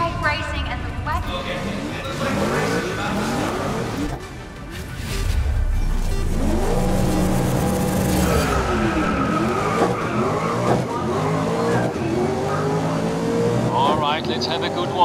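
A Ford Falcon FG X Supercar races around Silverstone Circuit in the game Grid 2019, engine note rising and falling through gear changes, with tires squealing, and a commentator's voice running underneath.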